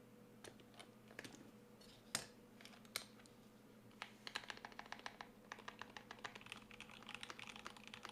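Fingers type on a Stellar65 R2 mechanical keyboard with Gateron Black Ink switches and TX stabilizers, giving scattered clacks that build into a quick, steady run of keystrokes, close and crisp.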